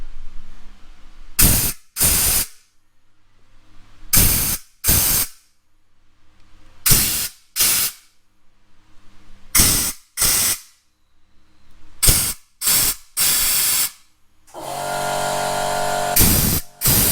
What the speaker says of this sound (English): Now I'm just going to blow out each of these holes that the studs go in